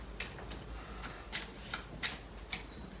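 A deck of playing cards is shuffled close by in a quiet room, giving a handful of soft, brisk riffling bursts spaced unevenly over a faint background.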